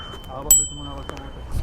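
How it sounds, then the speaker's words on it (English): Small handlebar bell on a ReviBikes Rebel 2 e-bike, one bright ring struck once and fading quickly, close and clear, with someone talking around it. "you got this little bell over here"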